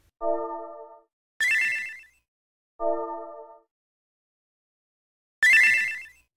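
Final Fantasy XIV chat sound effects from the video game, played twice as a pair: a bright electronic chime tone followed by a sparkling, noisy jingle, repeated in the same order, clear and alone with no talk.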